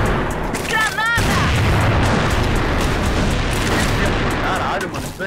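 A grenade going off in the shooter game CrossFire: after some excited shouting, a loud, close blast erupts and rolls into a sustained roar of gunfire and explosions, with voices carrying on underneath.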